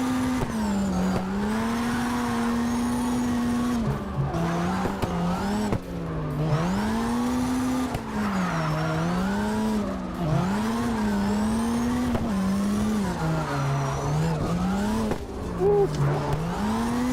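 A car drifts in CarX Drift Racing, its engine droning and wavering as it revs up and down, with tires squealing through repeated slides over about seventeen seconds of continuous sound.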